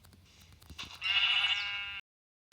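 A sheep bleats in a video game, one loud, close, wavering bleat lasting about a second after some quieter rustling and clicks, then cutting off abruptly into silence.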